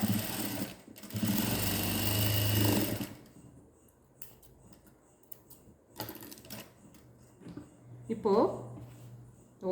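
A sewing machine double-stitches a churidar shoulder seam in two rapid bursts, a longer run followed by a short one, with someone talking between and over them.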